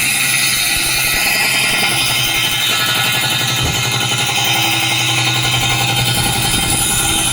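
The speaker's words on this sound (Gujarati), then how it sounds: "હવે એ લગાડીને આ મશીન ચાલુ થાય" A heavy stone-working machine grinds and rattles in a loud, continuous drone that never lets up.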